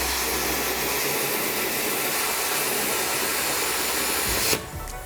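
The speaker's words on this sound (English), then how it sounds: "Let's go to a little bit of stainless. Same thickness. Stainless will be, it's a more dense material, but honestly, no problem for the Cutmaster." A Cutmaster 70+ plasma cutter slicing stainless steel gives a steady loud hissing roar that runs unbroken for several seconds, then cuts off abruptly and leaves a softer airflow hiss.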